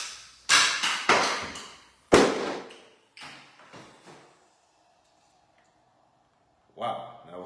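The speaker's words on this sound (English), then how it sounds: "we're going to test out the Thunder Bee distraction device" A Thunder Bee flashbang distraction grenade goes off in a garage: a sharp, heavy bang with a ringing, reverberant decay, close by, among a few smaller knocks and clatter, followed by near silence.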